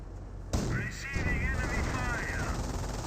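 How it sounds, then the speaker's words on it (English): Rapid MG42 machine-gun fire in the World War II strategy game Company of Heroes, a dense sustained burst starting abruptly and running loud and near to the end. "MG42 does suppress that rifleman."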